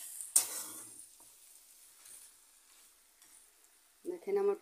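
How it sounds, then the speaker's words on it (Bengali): Goat meat and papaya sizzling and frying in a pan, with a sharp scrape of stirring at the start and another burst of clattering stirring near the end, otherwise a low steady sizzle. "মাংস কষানো হয়ে গেছে, অনেকটা নাড়া দিয়ে নিচ্ছি"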